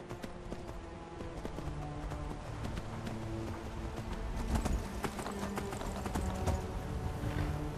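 A horse gallops in the video game Skyrim, its rapid rhythmic hoofbeats clip-clopping loudly and continuously up close over low in-game ambience.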